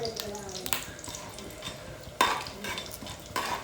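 Nuts fry in a mix of ghee and oil for prawn pulao, with a low, steady sizzle broken by a few sharp spoon scrapes and clicks against the pan.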